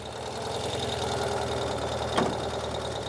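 A 2023 Ural Gear Up Sahara motorcycle engine idles steadily nearby with a low, even rumble and a faint whine, and one brief sharp sound rises above it. No talking is heard.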